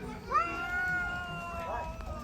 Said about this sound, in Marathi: साईडलाच मांजरांची भांडण चालू होती